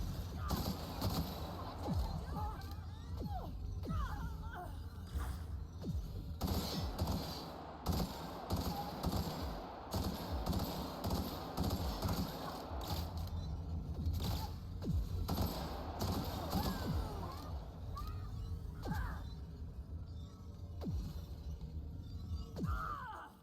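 Weapon gunfire in the video game The Outer Worlds, dense rapid bursts and sharp shots running continuously with clattering impacts, loud and close throughout.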